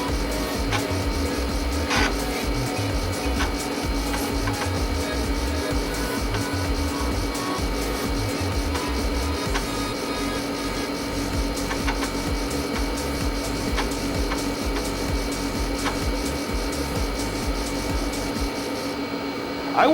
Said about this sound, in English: Listen to all 5 1/4 inches of 720K floppy drive working that disc up and down.